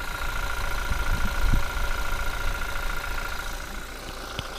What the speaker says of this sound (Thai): เครื่องนิ่ง นะครับเราลองฟังเสียงกันดูสักหน่อย